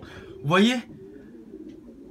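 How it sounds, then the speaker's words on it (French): Pigeon cooing from birds in the compartments of a pigeon loft, one short rising-falling coo close by, with someone talking over a low background murmur. "Là, il y a les casiers des pigeons."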